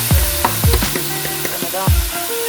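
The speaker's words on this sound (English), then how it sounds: "I'm gonna make that one fry up a little bit and catch it color." Chicken pieces frying in a pot for Jamaican coconut curry chicken, with loud crackling sizzle and repeated metallic clanks and scrapes of a spoon stirring against the pot, close up, no talk.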